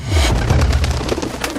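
Pigeons coo in the kingdom-ruling card game Reigns, a loud, close burst of low throaty cooing with rapid fluttering texture lasting only a moment, with no voices.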